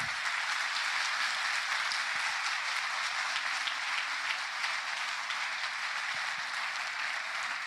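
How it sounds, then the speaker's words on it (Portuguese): Church congregation applauding together, a sustained, even roar of many hands clapping that holds steady for several seconds, heard from within the crowd. "Você pode aplaudir e glorificar o nome."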